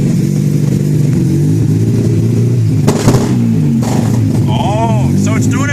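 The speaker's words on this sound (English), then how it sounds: "Try revving it now." Mazda RX7 rotary engine idling rough then revving as it warms, a loud continuous engine tone with wavering pitch and brief revs near the end, people talking over it.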